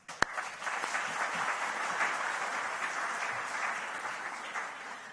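An audience at a European floral awards ceremony bursts into sustained applause after a sharp opening knock, the clapping steady and crowded throughout.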